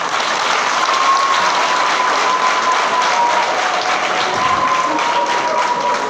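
Steady, dense applause from a large audience at an opposition coalition rally fills the whole stretch, loud and continuous with a faint tone running underneath.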